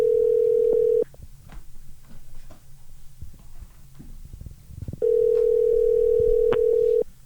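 Telephone dial tone while a call is placed: a loud steady tone for about a second, a gap with faint handling noise, then the tone returns and holds steadily to the end.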